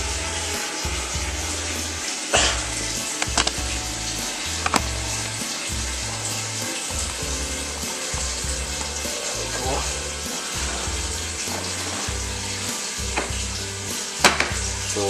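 Water pours into a fermenter while a batch of St Peters Ruby Red Ale is being brewed, a steady rushing, splashing fill heard close up with a few knocks and clunks, under background music.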